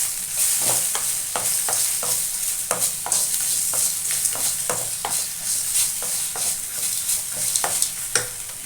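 Curry leaves are stirred into a hot pan for an eggplant dish. A steady sizzle runs throughout under rapid, repeated spoon scrapes and taps at close range.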